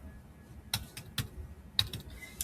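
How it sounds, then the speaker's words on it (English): Keystrokes on a computer keyboard during school memo formatting: a few sharp, separate clicks spaced irregularly over quiet room tone, close and moderately loud. "You're going to type your lunch number here."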